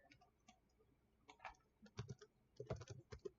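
Fingers type on a computer keyboard in quick, irregular bursts of soft key clicks, with a few heavier keystrokes among them, all quiet and close with no voices.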